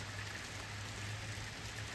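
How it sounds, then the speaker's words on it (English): Steady heavy rain pours down outdoors on a dull day, a continuous even hiss of drops on surfaces with no pauses and no voices. "So it's still raining. It's pouring."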